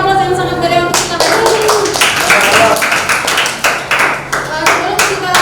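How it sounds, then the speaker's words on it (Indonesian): A class applauding during an Indonesian history lesson, loud close clapping from many hands in a dense irregular stream for several seconds, with voices underneath. "berikan aplaus yang sangat meriah untuk kita"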